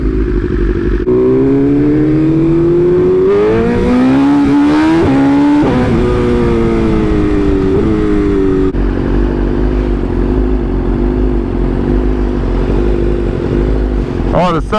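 A sport motorcycle with a quick shifter and titanium parts revs hard at a street meet, its engine note climbing and falling through several loud, close pulls over a constant low rumble.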